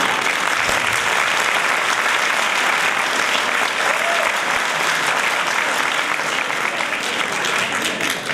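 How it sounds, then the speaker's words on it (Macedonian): Dense, loud applause from a full concert audience at a winter show, continuous and even throughout with no break or voices on top. "Ще сте скромни во аплаузот."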